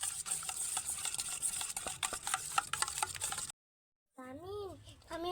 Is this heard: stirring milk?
yes